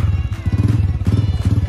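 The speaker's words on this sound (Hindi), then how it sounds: "सारे अपनी अपनी बाइक निकाल रहे हैं।" Motorbikes are wheeled out and started, one engine idling close by in a steady loud chugging putter, with a few clattering knocks over it.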